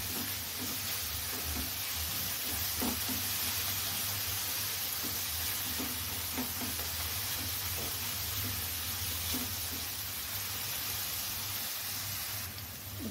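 Turmeric and chili powder spices frying in a pan as they are stirred, a steady close hiss and sizzle running throughout with faint scraping ticks, no voices.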